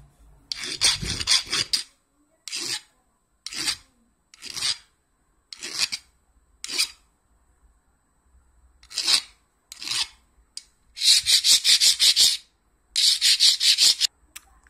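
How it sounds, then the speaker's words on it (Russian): A hand file rasps across a roughly carved knife handle in short bursts of scraping strokes, some single and some in longer runs, separated by pauses, close and loud. "Это все обработаем сейчас напильником."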